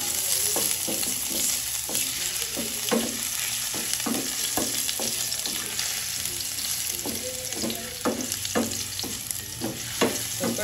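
Ginger sizzles in hot oil in a pan, a dense, steady frying crackle broken by repeated scraping strokes of a stirring utensil at an uneven rhythm, close and fairly loud.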